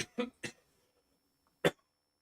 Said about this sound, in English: I don't know what's going off with this cough or anything